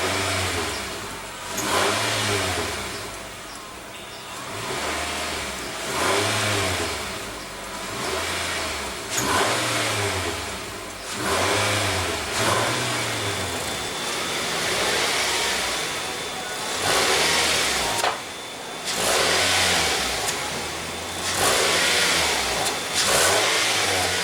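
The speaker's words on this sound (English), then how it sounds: "let's go ahead and rev up that 4-cylinder and see what kind of soundtrack she makes." A 2015 Nissan Altima's 2.5 L four-cylinder engine revs repeatedly from idle, rising and falling in a steady series of throttle blips, close and loud, with faint background noise.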